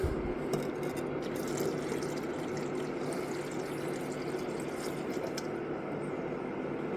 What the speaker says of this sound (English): pour this one in.